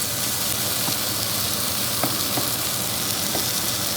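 Grated tomato stirred into a frying rabbit paella in the pan makes a continuous, close sizzling hiss, broken by a few soft scraping knocks from the stirring.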